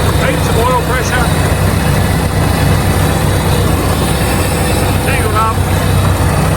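A petrol engine runs steadily with a loud, dense low rumble throughout, close by, with a few faint higher squeaks over the top.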